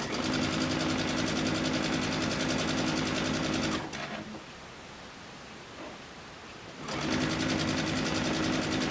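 Sewing machine stitching quilt sashing, a loud steady whirring hum that stops for about three seconds, leaving quiet room tone, then starts up again at the same pace.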